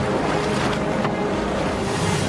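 A river current rushes toward the edge of a waterfall where a kayaker is caught, giving a dense, loud, unbroken roar of churning water mixed with a windy hiss.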